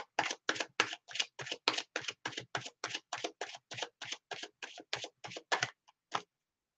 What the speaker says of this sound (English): Cards are shuffled.